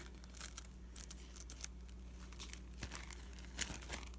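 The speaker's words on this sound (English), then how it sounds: "I'm just gonna cut the bottom off this bag" Scissors cutting the bottom off a plastic bag during a craft session, producing soft crinkling and snipping rustles that come in scattered bursts, close and fairly quiet.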